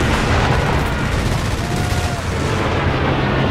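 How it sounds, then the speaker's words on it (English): Heavy artillery barrage in the World War II strategy game Company of Heroes 3, a dense, continuous rumble of booming impacts and gunfire filling the scene at steady loudness. "Heavy artillery called in the center."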